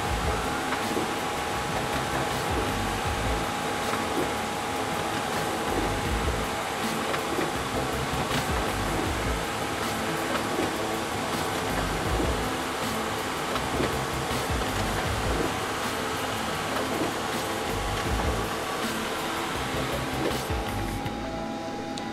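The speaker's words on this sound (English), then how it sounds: "There it is printing." A Xerox Versant 180 digital color press runs steadily while printing, producing a continuous dense mechanical whir and rumble for over twenty seconds without a break.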